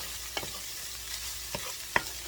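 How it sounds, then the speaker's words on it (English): Onions and garlic sauteing in oil in a pan, with a soft steady sizzle and a few brief clicks and scrapes of stirring, quiet and close. "So I'm going to saute this up"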